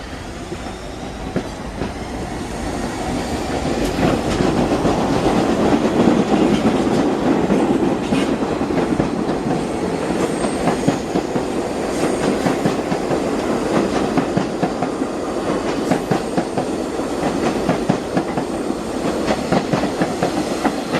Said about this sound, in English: And let's look at R42 what looks sounds like.